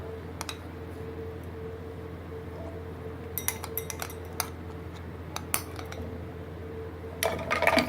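A spoon stirs soaked basil seeds into falsa juice in a glass, giving scattered light clinks and taps against the glass that grow into a busier clatter near the end, close and fairly quiet with no talking.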